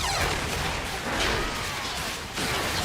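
A sound cannon boss ability fires during a Liberation of Undermine video game raid, a loud, continuous broadband roar of blasts and crashes sustained for about three seconds with a brief dip near the end.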